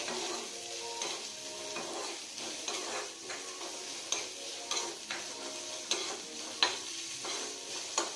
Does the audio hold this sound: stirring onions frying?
yes